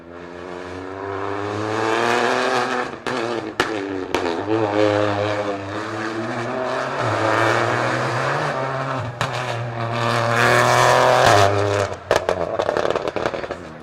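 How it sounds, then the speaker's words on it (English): A turbocharged rally car approaches on a rally stage, engine rising and falling through gear changes, growing louder and harsher as it nears, with brief pops and crackles. "turbo coming towards us right now"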